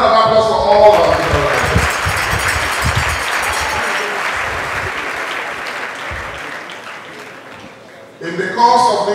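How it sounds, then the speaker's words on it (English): An audience at a ceremony honouring a Nobel laureate breaks into loud, sustained applause that slowly thins toward the end before a voice resumes speaking. "A round of applause for all of them."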